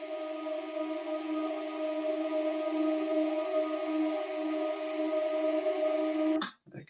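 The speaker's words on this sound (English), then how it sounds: "Very subtle but simple in the background, layered with this drone sound," A sustained, evolving drone holds steady at moderate level under a faint, airy Foley texture, then cuts off abruptly and is followed by a brief noisy sweep.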